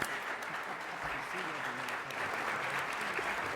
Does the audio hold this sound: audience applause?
yes